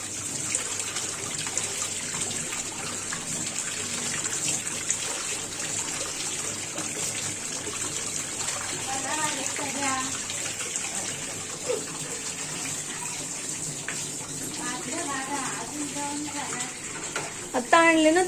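Crabs being washed one by one under running tap water, a steady faucet stream with splashing and trickling over a constant hiss, fairly close, while someone talks now and then.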